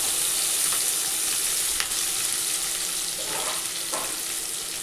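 Sliced onion frying in butter in a pan for vegetable pulao, a constant near sizzle broken by a few spoon scrapes and stirs, with no one speaking.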